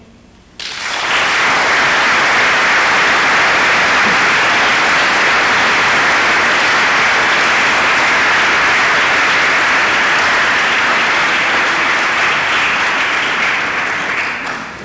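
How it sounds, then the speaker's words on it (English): Lecture audience bursts into loud, dense clapping that starts abruptly and holds steady for over ten seconds before easing off, with no talk over it. "it sounds great when you're clapping"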